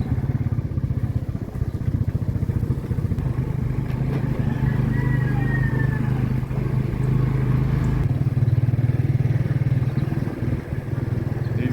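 A motorbike rides through Mensilan Subdivision in Hagonoy with a steady, close engine drone and some rattling clatter, plus wind buffeting, continuous throughout with a slight change near the end.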